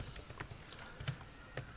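Light typing on a computer keyboard, a short run of soft, irregular key clicks up close with one sharper tap, quiet and alone.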